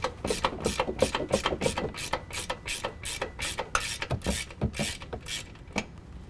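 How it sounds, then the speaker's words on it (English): A ratchet turning a 16 mm socket loosens the top nuts of a strut assembly on a 2019 Dodge Ram 1500, producing a steady run of quick metallic clicks with brief breaks, close and fairly loud, no voices. "I'm going to go ahead and take a 16 millimeter and loosen up all these nuts."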